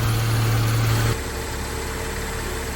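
A car engine runs with a steady, close idle after the serpentine drive belt and tensioner are replaced. The hum is smooth and even, with a low tone that drops slightly partway through, and no squeal.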